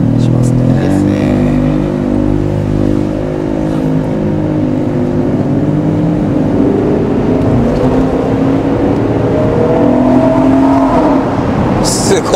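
A Lexus LC500 convertible's engine builds steadily under gentle acceleration from a manual-shift start, a loud continuous drone with rising harmonics filling the cabin throughout, while people talk over it.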